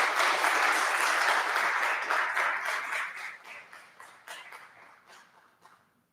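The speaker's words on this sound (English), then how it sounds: "if we could just one more time give Delani a round of applause for this talk" A university colloquium audience applauds after a talk, with dense, loud clapping that holds steady and then thins out over the last few seconds into a few scattered claps.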